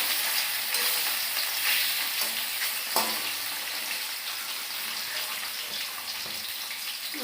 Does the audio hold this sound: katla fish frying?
yes